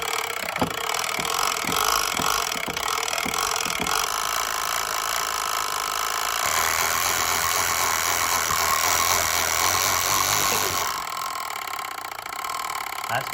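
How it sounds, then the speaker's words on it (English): A hand-spun coil turns inside a magnetic field as a simple electricity generator, giving a steady whirring, rattling mechanical drone that starts with several rhythmic clicks, swells through the middle and carries on for the full stretch at close range. "I'm going to spin the coil inside the magnetic field."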